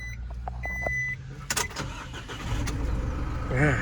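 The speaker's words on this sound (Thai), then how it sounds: "เดี๋ยวผมลองสตาร์ทให้ดูนะครับ" An Isuzu Spark pickup truck's engine, a 3.0 or 1.9 diesel with manual gearbox, cranks over briefly and catches, then settles into a steady idle, heard up close alongside a few cabin beeps.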